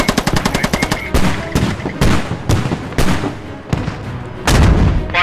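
PKP machine gun firing in the video game Squad, a fast rattling burst giving way to heavy, booming shots in an irregular rhythm, very loud and close, with no talking.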